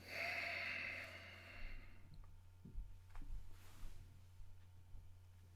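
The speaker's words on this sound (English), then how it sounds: "breathing in and out through the nose as long as that's comfortable for you" Slow, soft breathing in and out through the nose during a calm guided meditation, with a long airy exhale first and then gentle, close snuffly breaths over a low steady hum.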